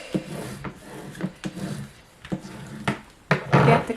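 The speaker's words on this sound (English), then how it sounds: "again I'm going to give this a good burnish, because you really want to have this to have a really good stick" Taped paper on a recipe album cover is burnished with repeated short rubbing strokes, uneven and close, with a louder scraping pass at the end and no talk.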